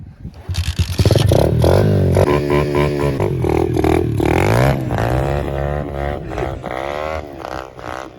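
A motorcycle engine revs hard and close, its pitch climbing and falling through several loud throttle blips with a rattly edge, on a bike being ridden and drifted.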